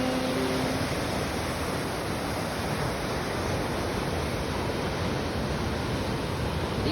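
Ocean waves at high tide on an Australian beach, a dense, continuous roar of surf that holds loud and even throughout, with no voices.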